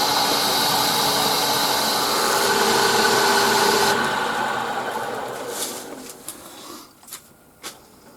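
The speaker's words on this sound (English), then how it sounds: "I've just put a coat of wood wax 22 on. Wiped it off a little bit and now I'm going to buff it off." Wood wax 22 being buffed off a turned wooden Greek-style urn on a lathe, a steady loud spinning whir with rubbing friction that fades out, followed by a few faint knocks.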